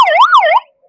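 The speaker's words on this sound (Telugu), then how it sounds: "అది స్విచ్ ఆన్ చేసి ఒకసారి సైరన్ వేస్తారు చూడండి సార్" A traffic police patrol motorcycle's siren in Hyderabad gives one short, loud wailing up-and-down sweep, close by, then cuts off abruptly.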